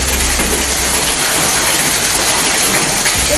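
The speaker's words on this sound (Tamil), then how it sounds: "காஞ்சிபுரம் மாவட்டம் ஸ்ரீபெரும்புதூர் மற்றும் சுற்றுவட்டார பகுதிகளில் ஆலங்கட்டி மழை" A hailstorm pours down on Sriperumbudur in Kanchipuram district, a dense, loud, unbroken roar of falling hail and rain with no pauses.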